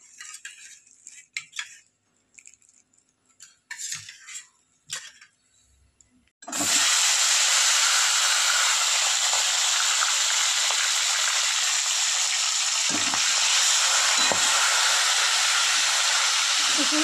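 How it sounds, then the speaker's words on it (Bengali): Rohu fish heads drop into hot oil in a pan and burst into a loud, continuous sizzling hiss, after a few quiet clinks of utensils, with occasional scrapes under the steady frying. "আর মাছের মাথাগুলো ভেজে নেব।"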